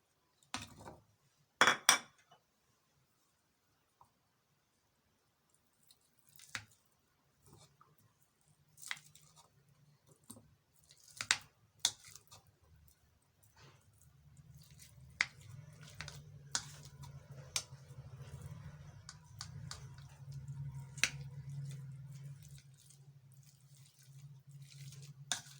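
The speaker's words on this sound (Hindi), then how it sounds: "आलूओं को हमने बारीक पीस लेना है।" Boiled potatoes are mashed finely in a bowl, starting with scattered sharp clinks of utensil on dish, then settling into a quieter, steady stretch of soft scraping and squishing.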